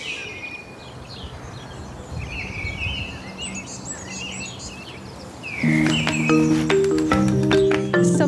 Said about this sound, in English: They have lots of different types of birds here.